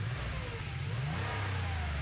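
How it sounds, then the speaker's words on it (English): A car engine runs steadily and close, its low hum rising in pitch partway through as it revs up, with no voices over it. "The car started up, purring like a kitten."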